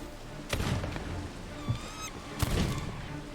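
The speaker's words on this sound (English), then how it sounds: "I'm hearing a bird from somewhere" A bird calls somewhere in the Sea of Thieves game world, a short warbling cry that repeats a couple of times at moderate distance over a low ambient background, punctuated by a few thumps, with no talk.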